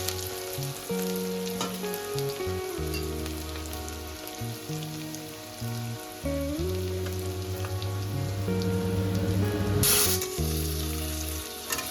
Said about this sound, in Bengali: পেঁয়াজটা অনেকটা লাল হয়ে গেছে, কালারটা চেঞ্জ হয়ে গেছে। আর একটু ভাজবো